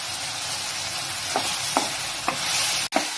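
Onion and tomato sauté in a pan for a crab fry, giving a steady close hiss. A few light spoon scrapes fall about half a second apart, and one abrupt knock comes near the end.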